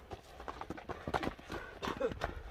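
An Orlov trotter horse's hooves clip-clop in a quick, steady series of close hoofbeats over a couple of seconds, with faint voices in the background.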